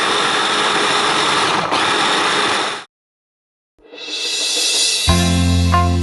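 A countertop blender whirs loudly as it chops ginger for a ginger shot. It runs steadily, cuts out for about a second, then spins up again, and a loud, tonal hum comes in near the end.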